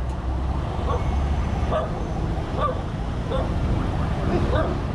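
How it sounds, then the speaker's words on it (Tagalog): A small dog yaps in short, repeated barks beside a busy road near Zapote River Drive, on the way to Macapagal Boulevard. The barking stays fairly close over a steady rumble of passing traffic. "Meron palang tuta kaya pala matapang."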